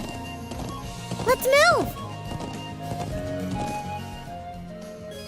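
A horse in the video game Trails of Cold Steel clip-clops along with steady hoofbeats, a short neigh rising and falling near the start, as a voice speaks briefly.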